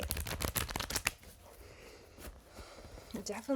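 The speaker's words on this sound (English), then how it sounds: "I do want to shuffle just a little deeper." Tarot cards are shuffled with quick riffling and flicking bursts at first, then quieter handling, faint and close, with a voice briefly at the end.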